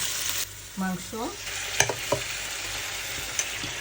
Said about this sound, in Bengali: মাংসগুলো একটু ভেজে নিব।